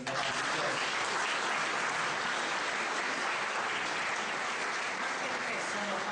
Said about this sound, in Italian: Un applauso a te, meraviglioso.